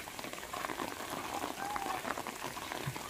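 Rain in a village at the start of the rainy season falls steadily onto surfaces, a constant close patter with scattered drops and faint background voices.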